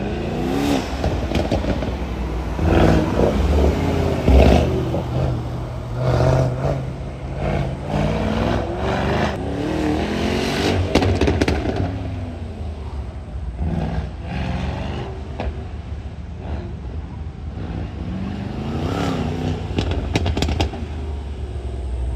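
A Mercedes-Benz AMG race car at an autocross event revs and accelerates through repeated rising and falling engine sweeps, heard at moderate distance with crowd and background noise.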